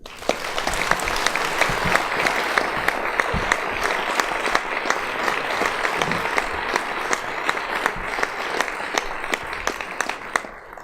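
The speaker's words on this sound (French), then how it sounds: "je crois qu'ils méritent vos applaudissements" Warm audience applause for children at a mayor's New Year greetings event in Mennecy, a steady crowd clapping with distinct individual claps standing out, loud and sustained across the whole stretch.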